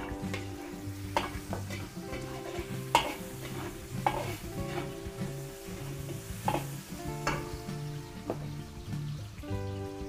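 Onion and garlic sauté in a large pan for a big batch of Filipino dishes, with a constant sizzle and repeated scraping, clinking strokes of a stirring utensil at an uneven rhythm.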